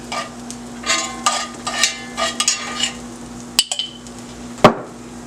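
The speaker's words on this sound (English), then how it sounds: "So I'm putting my onions in here, in this little bottle jar that I have here." A utensil scrapes cooked onions into a small glass jar for barbecue sauce: a series of short scrapes and taps, each standing apart, then a few quick clinks and one sharp knock against the glass near the end.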